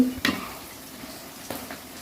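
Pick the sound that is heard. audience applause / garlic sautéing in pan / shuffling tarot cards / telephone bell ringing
garlic sautéing in pan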